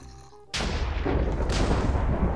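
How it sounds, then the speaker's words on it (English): An explosion in Minecraft with the EvilCraft mod also strikes lightning, giving a sudden loud booming blast followed by a rumbling crack and sustained roar, close and heavy. "Instead of a normal explosion, it actually strikes lightning as well."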